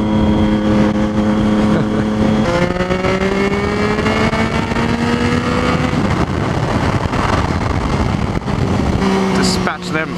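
A Triumph Street Triple and a Ducati 959 Panigale ridden on roads around Bath: loud engine note that rises in pitch under acceleration, with gear changes and a drop in revs near the end, and wind noise throughout.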